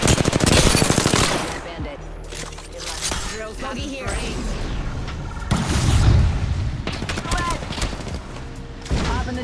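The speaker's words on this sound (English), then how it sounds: "He's getting shot by the other team" Apex Legends firefight on Xbox Series X with rapid bursts of automatic gunfire and heavy impacts, loud and close, while players talk over the shooting.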